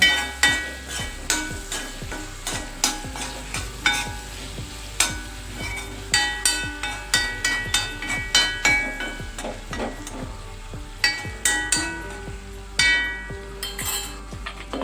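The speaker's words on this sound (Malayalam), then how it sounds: "നമുക്കൊന്ന് കുത്തി ഉടച്ച് കുത്തി ഉടച്ച് റെഡിയാക്കി വെച്ചേക്കാം എന്നിട്ട് എല്ലാം നല്ലപോലെ ഒന്നും കൂടെ ഇളക്കുക" Tomatoes are mashed and stirred in a cooking pot, with a steady run of sharp utensil knocks and scraping against the pot over a soft sizzle, close and fairly loud.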